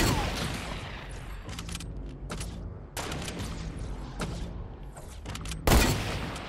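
Gunfire in the Fortnite video game, bursts of shots with brief pauses and a sharper loud blast near the end, close and dense over a continuous game ambience, with occasional talk.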